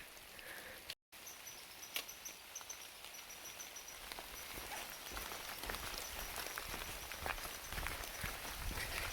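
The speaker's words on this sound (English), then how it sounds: "So it started raining again pretty hard." Heavy rain falls on a forest trail, a dense steady patter that grows louder and fuller over several seconds, with scattered sharper drops and a brief dropout near the start.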